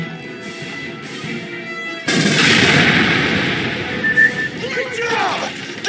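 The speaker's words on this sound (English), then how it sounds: "Shoot the fuel tanks around the APC!" Heavy sustained gunfire roars in loud and close as fuel tanks around an APC are shot in Aliens: Colonial Marines on PC, following a quieter stretch, with game sounds layered over it.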